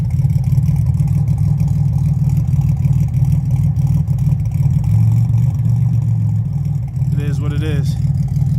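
A V6 car with a 3-inch exhaust idles close by, a loud, steady, deep rumble with a slight swell partway through, and someone speaks briefly near the end.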